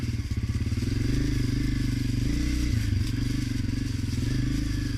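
A Honda CRF250F dirt bike being ridden, its single-cylinder engine giving a loud, steady throbbing putter close by, with slight shifts in pitch as the throttle varies, no voices.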